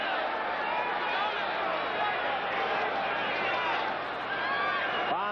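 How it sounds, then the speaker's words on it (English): Some 20,000 boxing fans roar in a continuous, dense wash at the Carrier Dome in New York as round one begins, with a commentator's voice running over the crowd. "Crowd comes alive right at the get-go."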